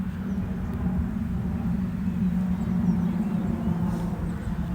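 An airplane passing overhead leaves a steady, low, droning rumble that stays even throughout, heard from outdoors over an open sports field where a small drone is flying.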